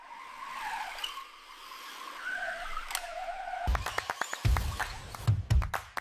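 A remote control sports car whines through fast turns, a thin motor buzz rising and falling before a run of sharp, rapid tire skids and clicks toward the end.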